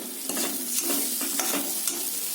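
A paste of ground cumin, ginger, tomato, onion and garlic is stirred and fried in oil in a pan. It gives a steady close sizzle, with a run of spoon scrapes and stirring strokes throughout and no talk.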